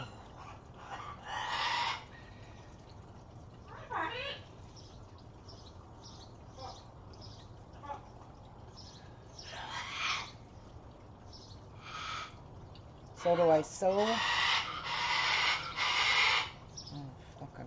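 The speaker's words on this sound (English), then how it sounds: "The bird gets on my nerves on a daily basis." An indoor bird calls nearby while someone sews blackout curtains, giving repeated bright chirps and squawks in bursts, loudest near the end, and a person speaks briefly between the calls.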